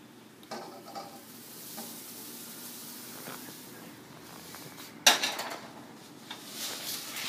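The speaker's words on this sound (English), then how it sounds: "I'm still stirring it up because it's really starting to stick" A spoon works through a sticky Rice Krispies mixture in a bowl, with soft scraping and sticky rustles, one sharp clink against the bowl, and more scraping toward the end.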